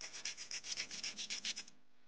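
A lotus seed rubbed on sandpaper at its pitted end, about a dozen quick, even scraping strokes in a steady rhythm, close and fairly quiet, then stopping.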